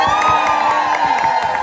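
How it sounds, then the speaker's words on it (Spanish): A crowd cheers and claps for a group of Brazilian performers in a short, loud burst of whoops and rhythmic applause. "Demos un gran aplauso a este grupo de brasileños."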